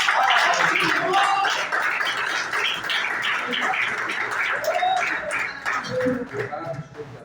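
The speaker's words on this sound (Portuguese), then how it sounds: "peço à igreja que dê uma salva de palmas para Jesus" An evangelical church congregation at a doctrine service in Lagomar breaks into loud, sustained applause for Jesus, hands clapping steadily while voices call out over it and the sound eases slightly toward the end.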